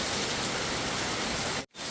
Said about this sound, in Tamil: மழையோ விடுற மாதிரி இல்லை.